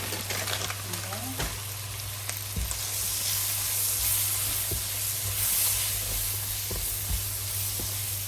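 Jajangmyeon sauce with ginger powder is stir-fried over high heat, producing a steady hissing sizzle with occasional clacks of a utensil against the pan, over a constant low electrical hum.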